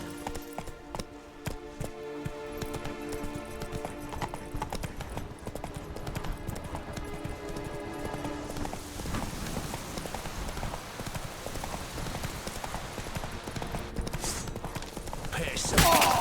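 Hooves pound steadily as a horse gallops in the video game Witcher 3, a dense, continuous clatter layered with other busy game sounds throughout.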